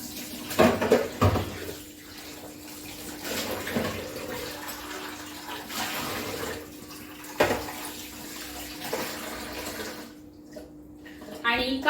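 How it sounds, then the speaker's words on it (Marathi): A baking tin, used for a cake of about one and a half kilograms, is scrubbed under a running tap in a kitchen sink, with a steady rush of water and brief clatters of metal, close and fairly loud. "मग आता हाही आता घासायला घेते"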